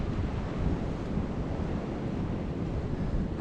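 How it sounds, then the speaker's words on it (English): Rough North Sea waves break against a rocky Scottish shoreline beside a rock pool, a continuous loud roar of surf mixed with heavy wind buffeting the microphone, with no voices. "Look, there's waves coming at this side now."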